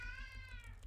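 A house cat gives a single faint, drawn-out meow against a quiet indoor background hum.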